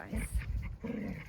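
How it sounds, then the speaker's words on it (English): Dogs play fight outdoors on a sunny day, with panting, low growls and short whimpers that are muffled and fairly distant, coming in rough bursts. "This is the dogs in the background play fighting on this beautiful day."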